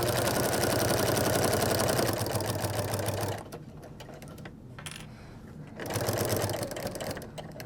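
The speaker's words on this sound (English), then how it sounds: "and then I'm going to start sewing ahead." A sewing machine stitches steadily through a quilted placemat made from a fabric panel, running loud and close for about three seconds, pausing, then starting again near the end.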